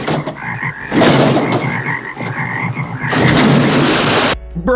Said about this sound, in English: she sends out her killer frogs to